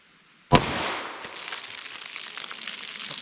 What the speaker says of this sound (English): first up we have the 4-inch barrel with that 180 grain Federal 357 mag.